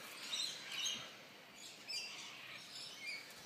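King parrot calling in a domestic garden setting, a few faint high chirps over quiet background hiss, no voices.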